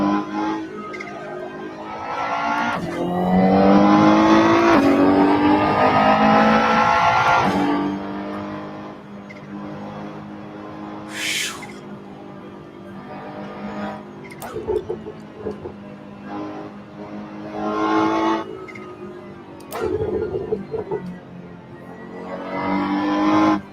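A race car laps the Nordschleife in Assetto Corsa Competizione, its engine loud and close as it revs up and down through gear changes, with long high-revving pulls, throttle lifts and a brief tire squeal.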